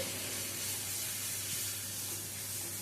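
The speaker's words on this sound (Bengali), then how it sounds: "গ্যাসের স্টিমটা লোতে রেখে মশলাটা কষিয়ে নিতে হবে, না হলে নিচে লেগে ধরবে" Spices being sautéed in a pan over a low gas flame for a pointed gourd (potol) dish, giving a steady, soft, close sizzle and hiss that runs evenly throughout with no talking.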